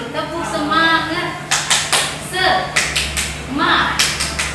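A seminar group of teachers claps the rhythmic tepuk semangat pattern, with bursts of loud, close clapping in a steady beat. A leader's voice and group chanting run between the clap bursts.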